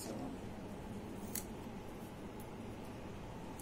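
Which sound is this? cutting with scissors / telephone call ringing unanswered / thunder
cutting with scissors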